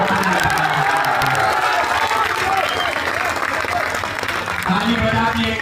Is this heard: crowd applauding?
yes